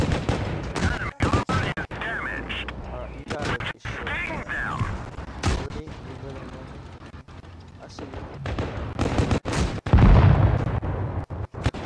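Tank gunfire in the World of Tanks Blitz video game cracks out in repeated sharp, loud bursts at irregular intervals, with a heavy boom near the end, while a player talks over the battle.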